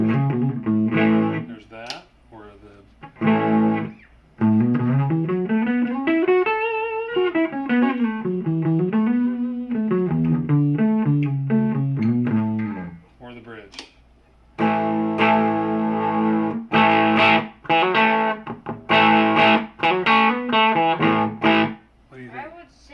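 A Firefly FF338 electric guitar played through distortion, loud and continuous with sustained chords and melodic runs, a brief pause near the middle, then heavier chugging strummed bursts.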